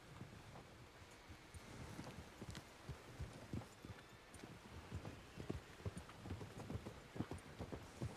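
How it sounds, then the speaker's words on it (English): Horse hooves from a rider in the video game RedM, a quiet steady clip-clop rhythm of many soft thuds over faint wind. "Wait, I hear a horse."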